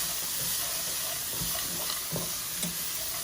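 Vegetarian crumbles frying in a pan, a steady close sizzle with a few soft scrapes and knocks of stirring, no voices.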